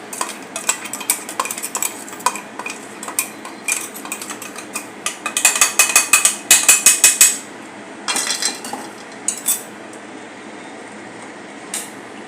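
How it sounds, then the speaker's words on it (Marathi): A spoon stirs milk in a metal pot for matka kulfi, making repeated close scraping and clinking strokes that build into a fast rhythmic burst before easing into sparse scrapes. "आणि हे चांगले ढवळून घेऊया आणि याला चांगले शिजून देऊया"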